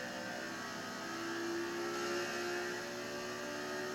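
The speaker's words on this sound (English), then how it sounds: "this engine sounds awesome" A NASCAR race car engine roars and revs steadily in the video game NASCAR 14, a loud sustained whirring drone that rises and eases slightly, with no talk over it.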